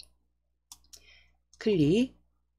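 A single sharp computer mouse click on a hyperlink in a Hangul word-processor document, heard near and clean, then followed by a short spoken phrase.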